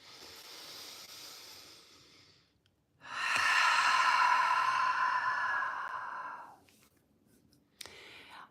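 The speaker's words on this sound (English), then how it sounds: "Switch and exhale. Release, breathe through both nostrils." Slow breathwork during a yoga session: a soft exhale tapering off, then a long, loud, airy breath through both nostrils lasting about three seconds, followed by a brief sniff near the end, close and without talk.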